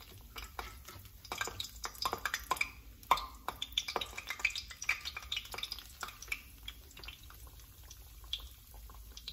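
A breaded potato patty filled with cheese frying in a pan of oil, giving a quiet, steady crackle of fine pops and spits with a few louder snaps, close and soft, with no talk.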